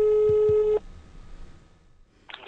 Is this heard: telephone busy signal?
yes